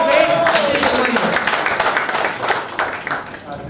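A crowd claps loudly for a poet being welcomed onstage at a poetry event, dense applause that gradually thins and fades by the end, with a brief voice near the start.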